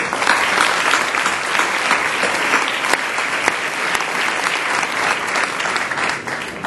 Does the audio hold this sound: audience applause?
yes